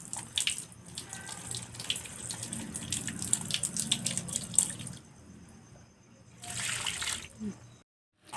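Plants are watered by hand. Splashing and trickling water runs for several seconds, pauses briefly, then returns in a shorter burst, moderately close.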